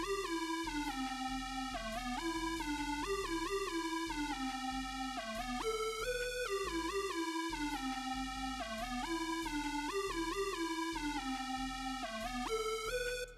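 Bouncy synth lead melody riding over a full hip-hop beat with deep bass and drums, bright stepped notes repeating in a steady looping phrase, loud and continuous with no talking.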